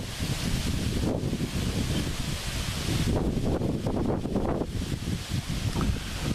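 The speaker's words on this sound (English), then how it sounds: "So it's kind of windy today, a little bit cooler." Steady gusting wind buffets the microphone outdoors on a cool day in Comanche County, Kansas, a loud, continuous broadband roar with rustling and brief surges, and no voices.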